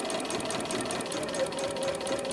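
A sewing machine runs a steady straight stitch through cotton fabric with a universal needle, a continuous close whirring hum throughout, with a voice talking over it.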